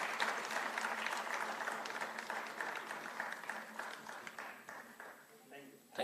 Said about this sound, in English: Can we hear some claps, please?